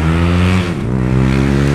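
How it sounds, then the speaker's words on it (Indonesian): A motorcycle passes by close and loud, its engine drone swelling and then dipping in pitch as it goes past, with a steady engine hum continuing around it. "ada motor lewat"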